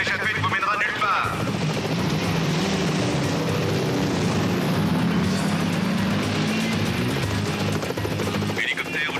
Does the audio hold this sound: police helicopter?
yes